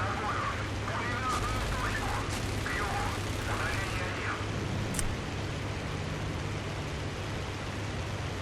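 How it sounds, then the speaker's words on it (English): Machine gun fire in the IL-2 Battle of Moscow flight game rattles in short distant bursts over a steady aircraft engine drone, with one sharper crack near the middle. "Stupid machine guns being ineffective."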